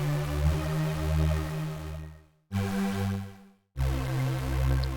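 Vital synthesizer plugin plays sustained, bright harmonic chords in three phrases split by two short silent breaks, clean and steady with a warm low end.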